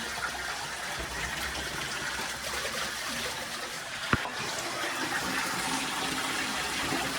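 Steady rushing shower water pours continuously close by, a broad even hiss with one brief knock partway through.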